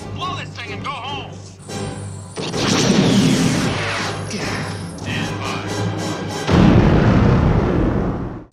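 Loud explosion sound effects with heavy booms and crashing debris, several overlapping blasts rumbling in sequence, with a big detonation near the end and a faint voice underneath at the start.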